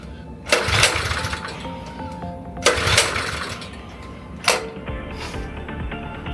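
Mini bike engine cranked repeatedly but failing to catch: three loud bursts of mechanical cranking and rattling, each fading out without the engine firing, close up with no talk.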